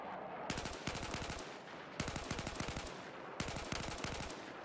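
Repeated three-round bursts from an M4/M16A4 rifle in Battlefield 4, each burst a quick cluster of loud, close shots, with about a second's pause between bursts, alone without talk.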